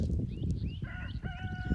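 A rooster crows with a rising, wavering call over a backdrop of clucking chickens and farmyard noise, close by, in a garden.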